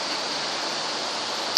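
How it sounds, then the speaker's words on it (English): Broadband rushing water of a creek running through a lodge building and spilling down falls by a bridge, steady and continuous at moderate loudness with no voices. "the creek is flowing right through the building to this bridge and down those falls"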